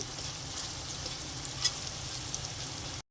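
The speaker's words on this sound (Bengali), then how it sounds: "মশলাগুলো খুব সুন্দরভাবে ভাজা হয়ে গেছে" Spices, onion and tomato fry in a pan for a Malabar spinach dish, giving a soft, steady sizzle with a faint clink midway before cutting off.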